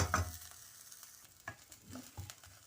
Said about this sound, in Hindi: सिर्फ प्याज और लहसुन को सौते करना